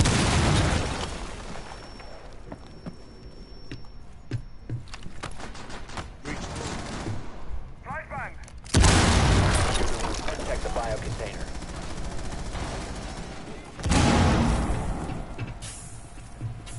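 Breaching charges detonate in a tactical shooter video game, two loud broadband blasts a few seconds apart rising out of steady game noise and scattered gunfire, with a voice talking in the background.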